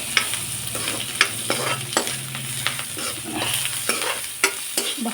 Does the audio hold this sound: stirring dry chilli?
yes